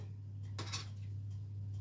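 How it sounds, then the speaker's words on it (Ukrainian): A single brief clink of a lid set down on a dish of peppers for baking, over a steady low electrical hum. "Накрию цю посудину кришкою"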